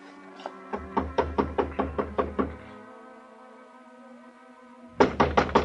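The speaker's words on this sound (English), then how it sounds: "climbed the stairs, and knocked on her door" Knuckles rap on an apartment door in a quick run of about nine sharp, close knocks, then a pause and another rapid burst of knocking.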